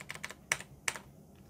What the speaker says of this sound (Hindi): जस्ट क्लिक करके टाइपिंग कर देना है